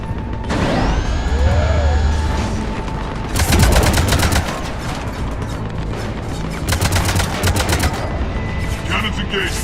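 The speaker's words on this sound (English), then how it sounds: "Cannons engaged." Rapid bursts of heavy cannon fire in a video game rattle out in loud repeated volleys, broken by pauses filled with mechanical hums and whirring tones, with dense action noise throughout.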